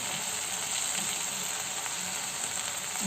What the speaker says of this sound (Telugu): 1 స్పూను జీలకర్ర పొడి బాగా ఫ్రై చేసేసుకుందాం